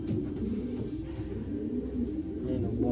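Low, rolling coos come from a racing pigeon of an inbred Porsche 911 and Picasso cross, a steady murmuring drone lasting several seconds at close range.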